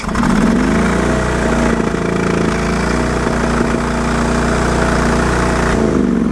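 A Briggs & Stratton 20HP V-twin on a Sears loader roars loud and close at full throttle, a steady heavy drone with a rough, sputtering edge, with no distinct separate backfire pop standing out.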